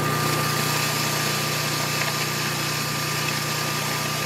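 A Vevor commercial grain mill grinding cornmeal gives a steady, loud motorized hum with a constant low drone and broadband grinding noise, unchanging throughout and close, with no voices.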